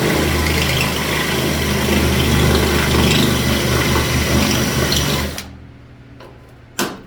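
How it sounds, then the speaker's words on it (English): A drill fitted with a spot weld bit cuts into rusty cab metal on a Ford Dentside truck, giving a steady, loud grinding whir for about five seconds. It then stops, followed by a short knock near the end. "Now, switch it up to our spot weld bit"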